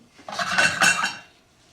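Lobster claws set into a pan of warm beurre monté, giving a short burst of metallic clinks and scrapes against the pan that swells and fades within about a second, close and fairly quiet, with no talking.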